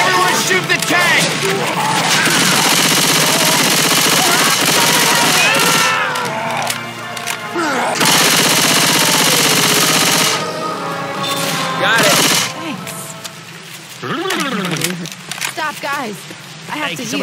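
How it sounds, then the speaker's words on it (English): Dense, loud gunfire in Left 4 Dead 2 as survivors shoot the Tank, rapid automatic bursts filling most of the stretch with brief gaps, under shouted voices and yelling. "Everyone shoot the tank!"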